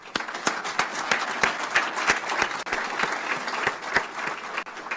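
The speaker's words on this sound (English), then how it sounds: "I'm going to applaud all my bosses on that." Applause at a university press conference, a fairly small group clapping with distinct sharp individual claps standing out, moderately quiet and continuous.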